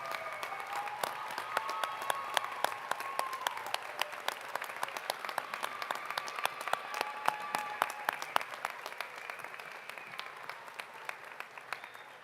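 A large commencement audience applauds graduates at a fall ceremony, a long even wash of many hands clapping with sharp individual claps standing out, moderately distant and without talk.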